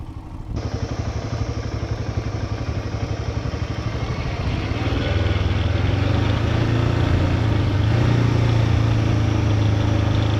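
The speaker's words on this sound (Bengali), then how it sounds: "তো ইঞ্জিনের হাউলিং শুনে বুঝতেই পারছো, ফার্স্ট গিয়ার ইঞ্জিন ব্রেকিংয়ে নামতে হচ্ছে।" A Royal Enfield 411 motorcycle on a smooth downhill road in a tea estate howls in first gear under engine braking. The engine is loud and close, with a steady rapid pulse that rises in pitch and strengthens midway.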